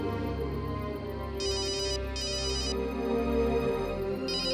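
A mobile phone rings with an incoming call, its electronic ringtone repeating in short high bursts over a soft music bed in an indoor scene.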